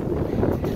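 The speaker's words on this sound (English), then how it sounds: "It's super windy." Strong wind buffets a microphone outdoors during spring turkey scouting, a loud, close, continuous low roar with no talking.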